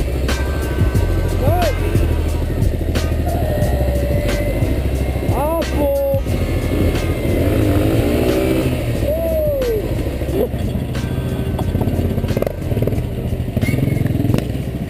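A KTM 690 single-cylinder motorcycle runs loud and close while ridden in the rain, its engine droning steadily with rising and falling revs and clattering mechanical noise throughout.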